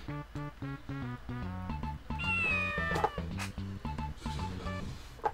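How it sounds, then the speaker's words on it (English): A cartoon cat meows repeatedly in the Dora the Explorer: Barnyard Buddies PlayStation game, high-pitched and clear over a loud, bouncy background music track with steady rhythmic notes. "Oh, there's the cat."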